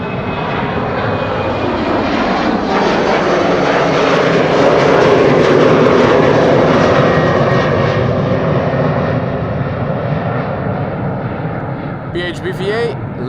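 A fixed-wing airliner landing on runway 06 at Amsterdam Schiphol Airport, a loud, sustained broad engine roar that swells to a peak mid-way and then slowly fades, with a faint voice briefly audible near the end.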